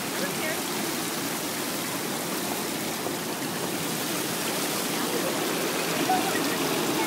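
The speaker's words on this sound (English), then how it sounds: "it's an interesting fountain that is just water moving along the concrete here" A park fountain sends a thin sheet of water along concrete, making a steady, even rushing hiss that fills the space without pause, close and fairly loud.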